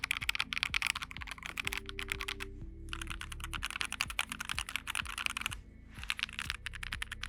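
Typing on a Keychron mechanical keyboard fitted with lubed Keychron Super Red Silent linear switches, a quiet, rapid run of soft keystrokes in close bursts with brief pauses, no voices.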